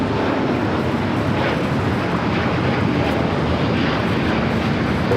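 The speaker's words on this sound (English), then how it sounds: "The Delta A350 taking off, and it will stay with the C-17." A Delta Airbus A350 takes off at Los Angeles airport, a steady, loud broadband jet roar with no talk.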